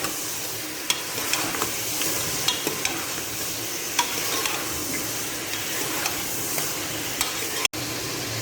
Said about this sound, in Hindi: अब मैं अच्छे से 3 से 4 मिनट कर देती हूँ इसको फ्राई।